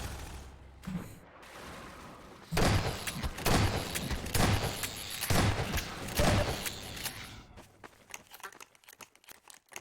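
Gunfire in a Fallout 3 Vault 109 game session: loud bursts of repeated shots in tight clusters through the middle of the clip, framed by quieter stretches of ambient game noise with scattered small clicks, no speech.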